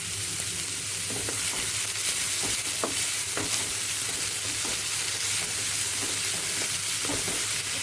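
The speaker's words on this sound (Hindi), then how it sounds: "इसको अब हम ट्रांसलूसेंट होने तक भूनेंगे।" Onions with crackled cumin and fennel seeds fry steadily in hot oil, a dense continuous sizzle with scattered pops and occasional stirring scrapes, close and fairly loud throughout.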